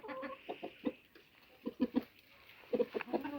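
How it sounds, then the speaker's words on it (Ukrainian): Clucking and short calls of a rooster, several bursts close by with pauses in between, no talking. "Який ти гарний півник в мене."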